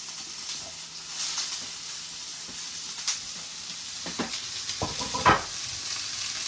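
Spring onion, mushroom, ginger, chilli and garlic stir-frying in a hot pan, a loud hissing sizzle with scattered sharp clatters and scrapes of the vegetables being tossed, building toward a burst near the end.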